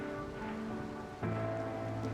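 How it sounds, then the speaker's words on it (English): Steady rain falls in the RimWorld video game as a constant, even patter with a low background hum, growing slightly fuller partway through and continuing without pause. "this map is already starting to suck with all this rain"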